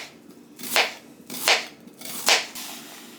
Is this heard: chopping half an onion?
yes